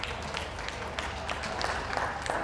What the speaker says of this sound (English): Don't be afraid to clap.